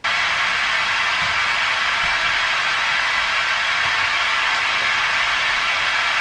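Full-range calibration noise plays through a planar tweeter with a flexible PCB membrane: a steady, loud, hissing broadband rush that holds unchanged throughout.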